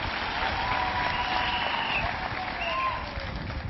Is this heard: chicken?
no